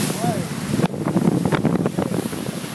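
Strong wind roars across the microphone aboard a sailboat racing in the Pacific above 60 knots, with rushing sea and surf beneath a constant loud buffeting, and speech partly audible within the noise.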